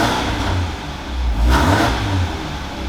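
A supercharged Scion FR-S track car with a newly fitted header revs steadily, its engine note climbing and swelling at close range with a slight surge in the middle, no voices over it.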